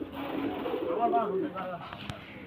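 Pigeons, a pair of show birds, coo in low, rolling murmurs close by, steady through the whole stretch while someone talks over them.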